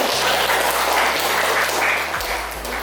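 Applause from students in a biology classroom, a brief steady patter of clapping with a low electrical hum running underneath.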